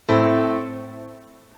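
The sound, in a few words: minor chord played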